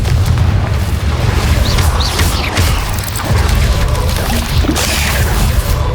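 Spell blasts from Confringo in Hogwarts Legacy during a goblin-village battle boom repeatedly in a dense, continuous barrage of explosive impacts, loud and close throughout.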